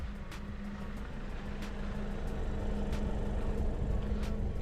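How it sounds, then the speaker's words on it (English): A Kia Sonet engine idles steadily after a remote start with a low, even hum and faint ticking, fairly quiet and unbroken, with no voices. "I think you can hear the engine noise."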